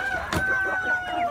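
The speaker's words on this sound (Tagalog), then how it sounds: "Partridge Brahma." A Partridge Brahma hen with feathered feet gives a brief burst of close, loud clucking calls over a quiet farmyard background.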